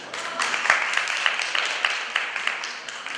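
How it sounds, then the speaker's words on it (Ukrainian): Applause from an audience at an awards ceremony for IT olympiad winners, a steady wash of many hands clapping with scattered sharper individual claps, moderately loud and continuing throughout. "Ще раз вам всім аплодисменти."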